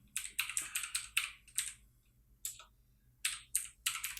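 Someone types on a computer keyboard while entering text in design software. Crisp, close keystrokes come in quick bursts of clicks with short pauses between, in an otherwise quiet room.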